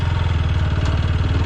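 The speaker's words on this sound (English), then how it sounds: "you will always feel the sweet thump when the RPM is very low, like this" A TVS Apache RTR 160 4V motorcycle engine thumps at low RPM, a close, loud, steady rapid pulsing with a mechanical clatter layered on top, heard alone.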